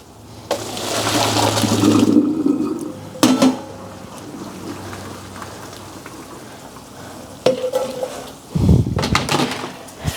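Cooked meat sauce poured off into a drain, a steady rushing splash of liquid for a couple of seconds followed by clanks and scrapes of a pot and utensils, close up with no talk.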